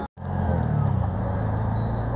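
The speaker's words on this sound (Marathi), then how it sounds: "आता आपण रिक्षाने चाललोय." An auto rickshaw on a ride in Pune cuts out for a moment, then settles into a continuous close engine drone with a slight rough pulsing.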